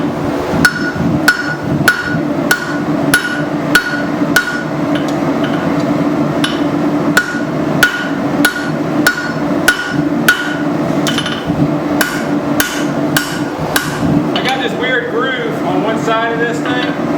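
A blacksmith hammers hot steel on the horn of an anvil, drawing a taper for a double hook, with a steady series of sharp ringing blows under a continuous forge roar.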